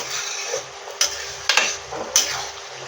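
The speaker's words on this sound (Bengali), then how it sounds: "এবার আমি মাশরুমগুলো দিয়ে দেবো আরও কিছুক্ষণ কষে নেব" Mushrooms fry in spiced oil in a pan, sending out a steady close hiss of sizzling broken by several sharp scrapes and knocks as a spoon stirs them, with no talking.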